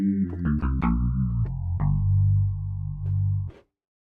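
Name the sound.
FM synthesis synthesizer sound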